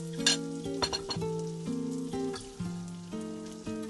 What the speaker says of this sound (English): And now I'm going to add back the onions, just half of them into the pan.